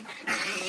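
Low, rough growling from small dogs indoors, faint and continuous, rising a little partway through.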